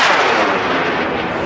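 Amateur rocket motor igniting at launch, a loud, close, sustained roaring hiss that fills the whole clip without pause.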